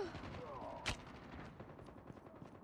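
Type 25 rifle bursts in Call of Duty Mobile, a quick, faint crackle of rapid shots with one sharper crack near the start, heard under low game ambience.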